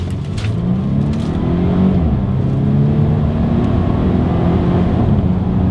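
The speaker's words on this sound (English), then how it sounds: "let's see how quickly we can get our new 2022 Volvo XC90 here up to speed" A 2022 Volvo XC90 T6 AWD accelerating hard from a standstill, its engine note rising in pitch through the gears with a brief shift dip, heard from inside the cabin with no talking.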